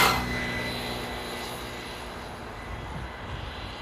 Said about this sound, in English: this should be that Cessna 510.